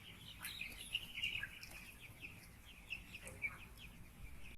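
Young broiler chickens sick with velogenic Newcastle disease in a poultry house give faint, scattered chirps and soft clucks over a low, constant background hum.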